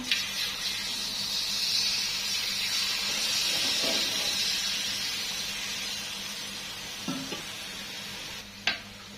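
Hot oil ladled over frying rebon shrimp rempeyek crackers sizzles and hisses continuously, with occasional soft ladle clinks and a sharper splash near the end, close and steady.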